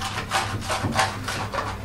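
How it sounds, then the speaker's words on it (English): Trowel scraping soft plaster off a ceiling in repeated rhythmic strokes, about five close rasping passes in quick succession. "good time just to scrape the plaster off the ceiling"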